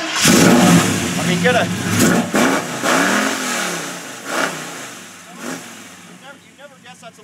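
A 283 V8 engine in a 1955 Chevrolet revs loudly nearby, rising and falling in several throttle blips while a person talks over it.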